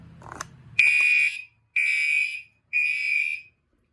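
A Notifier NFS2-640 mini fire alarm demo system sounds three loud, even horn blasts about a second each, separated by short silent gaps, after a brief clatter at the start.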